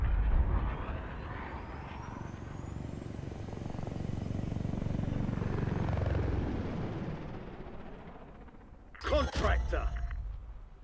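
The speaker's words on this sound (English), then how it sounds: "Extract helo is returning to base." Extraction helicopter in the Black Ops 6 video game, a heavy rotor roar that swells and holds steady, then fades, with a sharp burst of sound near the end.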